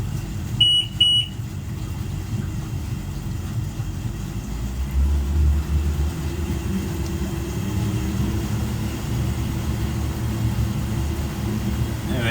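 Engines of a Beneteau GT32 boat rev and then hold a steady, low, droning rumble, with a few brief high beeps near the start.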